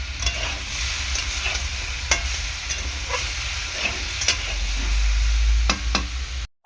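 Vegetables with green chillies sautéing in a pan, a continuous close sizzle with scattered scraping stir strokes and a low rumbling hum underneath, no voices.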